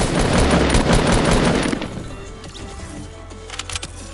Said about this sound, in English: Don't question that sniper shot